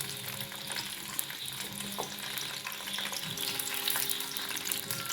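Packaged French fries frying in hot oil, a steady close bubbling sizzle with occasional light pops and clinks, continuous and fairly soft.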